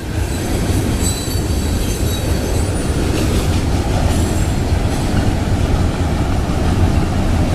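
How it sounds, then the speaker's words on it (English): Florida East Coast freight train of rock and intermodal cars rolling past, a loud steady rumble of wheels on rails with thin high squeals and clicks over the top, no voices. "We got an FEC train,"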